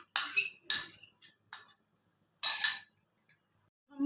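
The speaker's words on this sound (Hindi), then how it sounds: "अब ये हम दूध के अंदर शामिल कर देंगे और साथ साथ चम्मच को हिलाते जाएंगे।" A metal spoon scrapes and clinks against the sides of a pot while stirring a mixture into milk, in a few short, bright bursts separated by silence.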